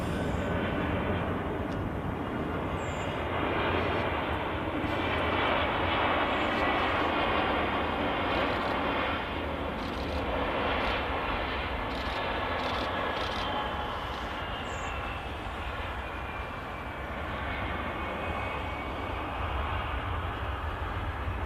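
A Turkish Airlines Airbus A320 at Manchester Airport gives a broad, steady engine roar that rises slightly mid-way and then eases off slowly, heard from some distance with no talk.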